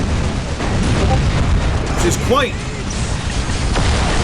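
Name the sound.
lascannons firing in video game Dawn of War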